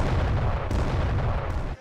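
Cannon fire from ship or shore batteries in the pirate TV drama Black Sails, heard as a continuous loud, rumbling roar of booms with a couple of sharper reports, fading out at the end, with no talk.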